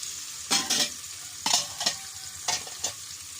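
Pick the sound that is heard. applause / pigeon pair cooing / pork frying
pork frying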